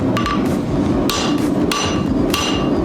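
Hammer blows on hot steel over an anvil while cutting partway through a forge-welded dragon head piece, four or five sharp ringing strikes spaced unevenly, loud and close with no talk.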